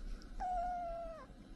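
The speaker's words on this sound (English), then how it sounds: "That's my cat." A pet cat resting on its owner's lap gives a single drawn-out meow. The meow is soft and slightly falling and lasts under a second against quiet room tone, with no talking.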